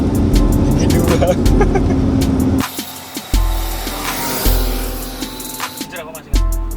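A 1983 Mercedes-Benz Tiger 280E on the move, its engine droning loud and steady with road noise, the tone cutting and shifting at gear changes; voices talk over it.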